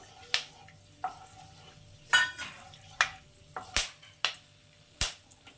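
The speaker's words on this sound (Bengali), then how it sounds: "একটু গোটা গরম মশলা দারচিনি লং এলাচ আর গোলমরিচ তো এটা তেলের মধ্যে দিয়ে দিচ্ছি এটাকে একটু ভেজে নেবো" Whole cinnamon, cloves, cardamom and peppercorns frying in oil for white chicken korma, heard as sporadic sharp crackles and pops about once a second over a faint low sizzle.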